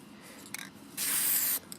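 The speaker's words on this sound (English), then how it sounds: "So yeah, I'm just spraying it silver." A spray paint can hissing silver onto a homemade fidget spinner, one steady, loud burst of about half a second after a few faint short puffs.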